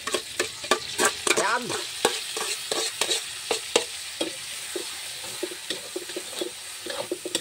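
Mung beans being stirred and sautéed with garlic, onion and tomato in a hot pan, a busy sizzle broken by repeated scraping stir strokes close up, with a brief spoken word.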